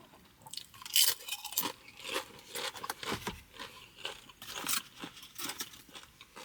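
Crunchy bites and chewing of a taco on a fresh tortilla, a series of close, crisp crunches with steady mastication and no talking.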